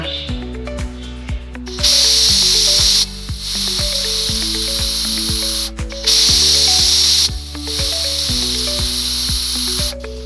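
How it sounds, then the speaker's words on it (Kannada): A pressure cooker holding lentils with fenugreek leaves, water, turmeric and oil lets off loud, repeated bursts of hissing steam alongside steady whistling tones, close and prominent with no talking. "ಈಗ ಎರಡು ವಿಸಲ್ ಕೂಗಿದೆ ಸ್ಟವ್ ಆಫ್ ಮಾಡಿ"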